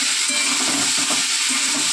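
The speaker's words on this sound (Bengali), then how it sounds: "এবারে কিন্তু আমি কেটে রাখা আলুটা দিয়ে দেবো" Cut potatoes go into a pan where fish is frying, and a loud, steady sizzle of hot oil fills the moment with no talking.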